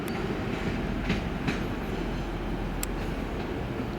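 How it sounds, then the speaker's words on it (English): An Azuma train arriving at York station, a continuous rumbling roll of wheels on track with occasional clatter and a brief squeal, steady and fairly loud with no voices. "I can hear there's another train coming in. Oh, it's an Azuma."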